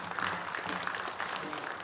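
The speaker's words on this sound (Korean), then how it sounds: "우리 힘찬 격려 박수 해주시기 바랍니다." A short burst of encouraging applause from a congregation at a Methodist men's fellowship winter retreat opening service, fairly faint and even throughout.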